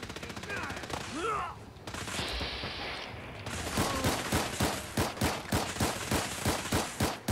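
Rapid gunfire in Fallout 4, a modded game, with a scattered burst early on, then a steady run of loud, evenly spaced shots toward the end.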